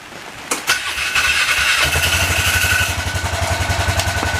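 A 2013 Polaris Ranger 500 engine, running without crankcase oil, cranks with a few sharp clicks, catches and settles into a loud, steady, rapidly pulsing idle close by.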